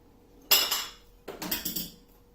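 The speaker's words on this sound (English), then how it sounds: "with our baking pan, we're going to scrape our mix in" Cake batter is scraped from a bowl into a baking pan, heard as two short bursts of utensil scraping and clinking against metal, close and fairly quiet, with no talking.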